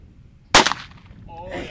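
A single sharp gunshot, 9mm or .22, cracks loud and close against a Cybertruck, then rings off into a short decay before voices start up.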